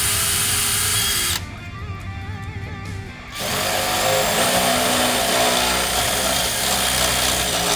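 A power drill with a pilot bit bores through the steel of a Smittybilt SRC rear bumper and tire carrier on a 2004 Jeep TJ Wrangler. A loud, harsh grinding whine fills the clip, breaks for about two seconds, then resumes steady.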